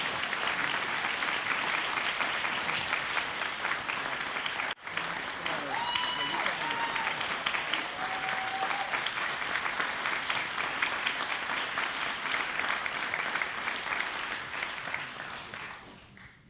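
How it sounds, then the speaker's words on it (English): An audience at an on-stage conversation with the oldest living Tuskegee Airman breaks into sustained, dense applause that holds steady for a long stretch, briefly dipping once before tapering off at the end. "Let's give him a big round of applause."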